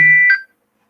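A loud electronic timer beep, a single sustained tone lasting under half a second and then cut off into silence.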